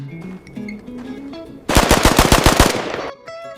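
Budget .22 pistol fired in quick succession, roughly ten sharp cracks in a rapid burst, loud and close, after a stretch of quieter background sound.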